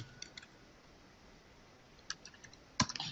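Computer keyboard typing a website address, heard as a short burst of quiet, quick key clicks near the end after a low hiss, with no voices.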